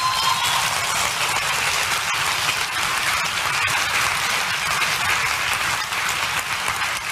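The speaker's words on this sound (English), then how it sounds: "Shouldn't you give God a good clap," A church congregation claps at length to give thanks to God, dense, steady applause from a large crowd filling the room without a break.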